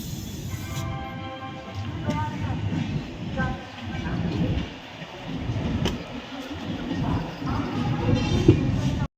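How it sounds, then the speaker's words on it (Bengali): A passenger train rolls into Prayagraj Junction station in India, a steady rumbling roar of wheels and carriages filling the scene at close range while people talk over it. "অবশেষে দেখো আমাদের ট্রেন ঢুকছে প্রয়াগরাজ"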